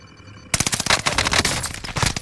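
Sudden close machine gun fire in Call of Duty Warzone Pacific breaks a near-silent moment, then a loud rapid stream of shots continues to the end.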